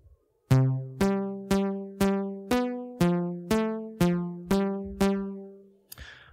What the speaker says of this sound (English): this code is using a random number generator for pitch and sounds like this.